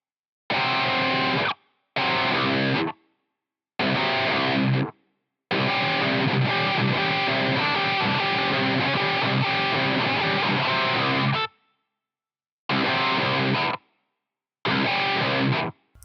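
Heavily distorted electric guitar plays an intro riff of stacked dissonant tritones in short chopped bursts broken by silences, then a longer sustained section, loud and alone with no voices.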